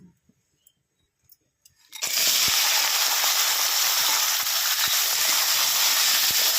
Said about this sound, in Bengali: তেলটা গরম হয়ে গেছে কাঁকড়া কাটা দিয়ে দেবো